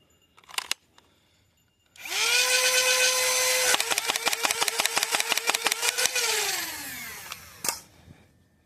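Dart Zone Venom Pro blaster firing Nerf Pro darts: a loud motor spins up with a whirring whine, then a rapid burst of about a dozen sharp shots rattles off before the motor winds down, followed by a final clack.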